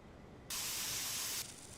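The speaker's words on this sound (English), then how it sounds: "The spray sounds like static." A single burst of spray paint from a video game hisses like TV static for about a second, loud and broad against a quieter noisy background.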